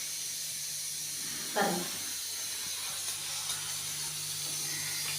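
Sugar athirasam dough made with puttu flour hits hot oil with a brief surge of sizzling, then a steady, soft frying hiss continues throughout. A voice speaks briefly over it.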